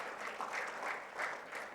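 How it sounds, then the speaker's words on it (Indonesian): Congregation clapping during a Sunday church service, a moderate wash of applause with gentle swells and a few louder bursts, fairly soft and slightly distant. "Boleh tepuk tangan bagi Tuhan Yesus."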